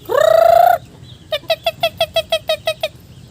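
A rooster kept with chickens and ducks lets out one loud, drawn-out crow, then after a pause a rapid series of about ten short, evenly spaced clucks, close and clear with no talking.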